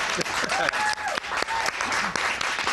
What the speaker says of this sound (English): 6, 5, 4, 3, 2, applause.